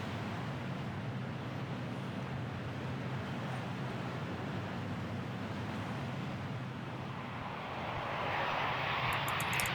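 Airliner landing with engine reverse thrust in the I Am An Air Traffic Controller 4 game: a steady, loud broadband engine roar that swells louder near the end as reverse thrust kicks in, with no talk.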